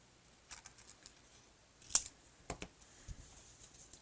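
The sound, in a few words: scissors cutting acetate sheet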